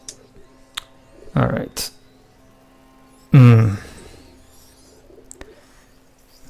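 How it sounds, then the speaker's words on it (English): Bird cooing like a pigeon or dove in the game A Plague Tale: Innocence, two short low coos in a quiet scene, with sparse clicks and someone speaking briefly. "It sounds like a bird cooing."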